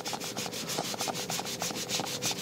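A car seat is rubbed briskly with a cleaning product, giving a loud, close scrubbing sound in quick regular back-and-forth strokes, about six per second, with no talking.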